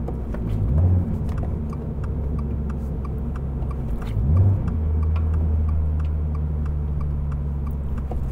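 A manual car engine rises in a quick blip twice during heel-toe downshifts, with the foot on the brake, over a steady close idle drone with faint ticking.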